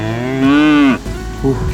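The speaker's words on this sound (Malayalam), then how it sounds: "ഈ റോഡ് മുഴുവൻ പശുക്കളും കാളകളെയും കൊണ്ട് നിറഞ്ഞിരിക്കുകയാണല്ലോ" A cow moos loudly and close by in one drawn-out call that falls off abruptly, followed by a brief shorter lowing, on a road filled with cows and bulls amid constant background rumble.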